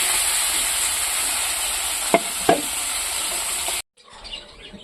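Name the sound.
fish frying in a wok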